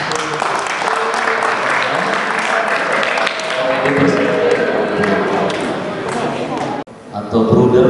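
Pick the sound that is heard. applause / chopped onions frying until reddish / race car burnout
applause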